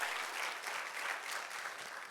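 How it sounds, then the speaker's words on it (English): An audience applauds at a business awards event honoring a financial services company, a steady dense clapping that stays even throughout with no voices over it. "Let's give him a round of applause again, Mr. Willie Woods"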